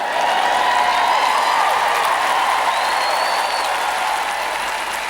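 Audience applause at a sermon, steady dense clapping from a large crowd filling the space evenly for several seconds, with no talk over it.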